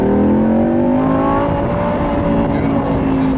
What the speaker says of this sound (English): I want you to see the full throttle blast right now.